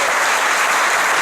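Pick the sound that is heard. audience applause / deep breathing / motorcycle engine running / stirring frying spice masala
audience applause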